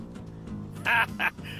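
Two loud duck quacks from a bird in Bum Simulator, close and distinct, heard over low game background noise.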